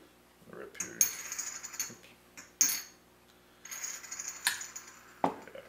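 A Hub 125 copper spinning top spun on a 75mm sapphire lens: bright metallic clinks and a ringing, whirring rattle come in several close bursts separated by brief pauses.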